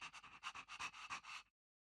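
Peppy, a small dog in the video game Honkai Star Rail, pants in quick, steady breathy bursts, close and clear with no talk, then stops abruptly.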